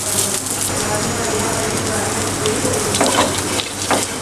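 Dry fruits roasting in desi ghee hiss and crackle steadily up close, with occasional scraping stirs and sharper pops breaking through the continuous sizzle.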